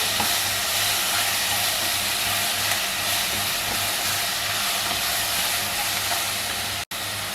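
Pumpkin, tomato, capsicum and curry leaves stir-frying in hot oil give a steady, loud, dense sizzle and hiss that runs on without a break.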